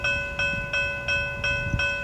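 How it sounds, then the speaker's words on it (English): A Brightline train on a test run at a road crossing, heard as a steady horn tone with rhythmic clacks of wheels over rail joints as the cars roll past close by, with no talk. "Yep, that's BrightLine."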